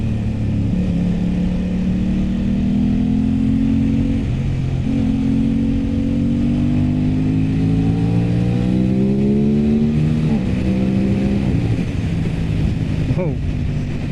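An Aprilia RS 660 motorcycle engine accelerates loudly and close, its drone rising in pitch through several gear pulls with brief dips between shifts under a steady roar of wind.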